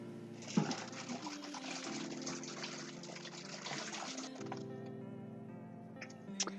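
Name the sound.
rinsing mushrooms under running water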